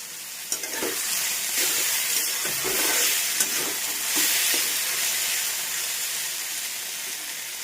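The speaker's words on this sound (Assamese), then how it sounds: "কেৰাহীতে পাঁচফোৰণ আৰু কেইটামান গোটা জিৰা আৰু এটা শুকান জলকীয়া দি সম্ভালি দি দিম" Panch phoron, cumin and a dried chilli hit hot oil in a kadai for tempering dal, making a loud, steady close-up sizzle and hiss with small crackling bursts.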